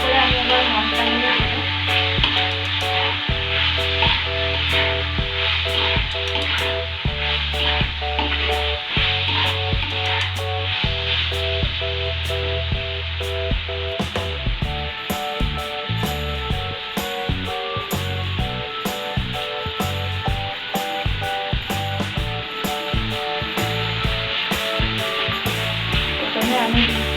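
Ginger garlic paste sizzles steadily in a hot frying pan while being stirred, a continuous hissing crackle that runs under soft background music.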